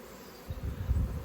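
Honey bees buzzing inside a freshly opened hive box with the crown board removed, a low, soft hum that swells briefly and stays close and steady, with no voices.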